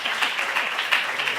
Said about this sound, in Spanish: Señores, un aplauso porque vamos